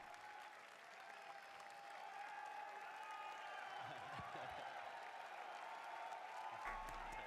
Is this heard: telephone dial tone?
no